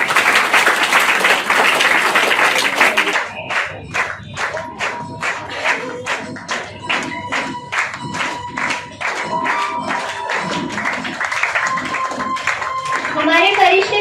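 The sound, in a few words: audience clapping to welcome dancers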